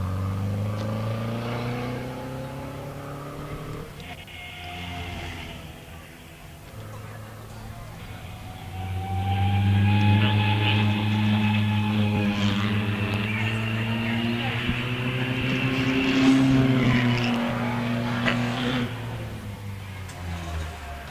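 A vintage Wolseley Aries Special sports car engine drones and climbs in pitch as it pulls up a hillclimb course at Wiscombe Park, passing nearby with a rising then steady roar while a commentator talks.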